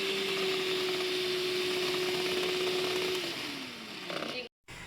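An electric beater whirs steadily through sponge cake batter, its motor tone sliding lower as it slows near the end before a brief cutout.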